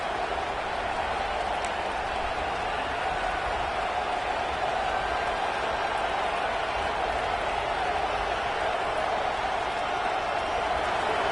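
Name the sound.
stadium crowd roaring in video game NCAA 26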